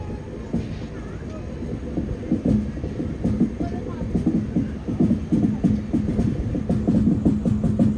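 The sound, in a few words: Jhelum Express train running, heard from sleeper class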